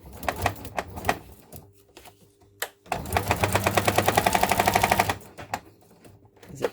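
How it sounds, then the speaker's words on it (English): A sewing machine stitches in one steady, fast burst of needle strokes lasting about two seconds, preceded by a few scattered clicks and taps, close and fairly loud. "I hope this machine doesn't give out."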